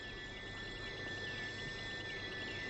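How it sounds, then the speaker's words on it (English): Thousands of jungle crickets chirp at dusk, a continuous dense shrill trilling with steady high tones, a loud enveloping chorus with no voices. "In the dusk, the jungle crickets, thousands of them, are almost deafening."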